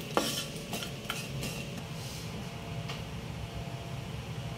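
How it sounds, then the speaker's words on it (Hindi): Dried fish frying in a pan for chutney, a steady soft sizzle with occasional scraping and clinks of a utensil stirring against the pan, close and moderately quiet, no talking. "ये है ड्राई फेस, इसको मैं अब फ्राई कर रही हूँ।"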